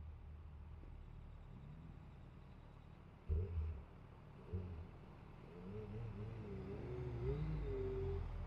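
A 2023 Suzuki Hayabusa motorcycle pulls away, its engine a low, faint rumble with a couple of brief thumps before the note swells and rises steadily as it gets under way.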